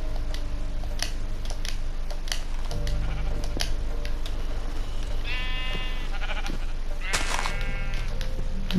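Sheep bleating in Minecraft on PS4, a couple of short bleats over steady game background sound, with faint voice nearby.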